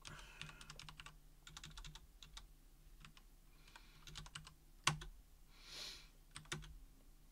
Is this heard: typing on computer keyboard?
yes